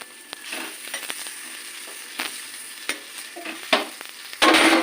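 Jackfruit paturi wrapped in banana leaf frying in a pan: a soft, continuous sizzle broken by scattered scraping clicks as it is pressed and turned, with a louder burst of hissing at the end.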